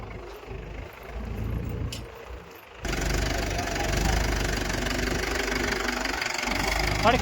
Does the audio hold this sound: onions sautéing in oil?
no